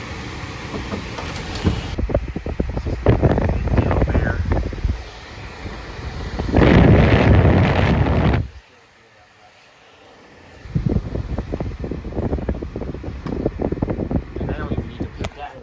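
A loud, steady rushing of moving air from a Lasko high-velocity tower fan. It cuts off briefly, then starts again at full strength.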